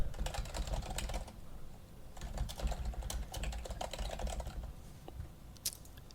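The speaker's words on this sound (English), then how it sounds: "all I have to do is enter in email addresses of people I want to share the folder with" Computer keyboard keys being typed while entering email addresses, a steady run of close, light clicks in short bursts with a brief pause partway through, no talking.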